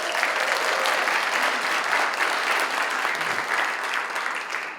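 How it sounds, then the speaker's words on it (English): Steady audience applause fills the room at an evening lecture event, a continuous, fairly even wash of clapping that carries through the whole moment and eases slightly at the close. "Let's give him applause."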